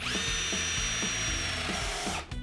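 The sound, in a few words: drilling timber with a 25mm spade bit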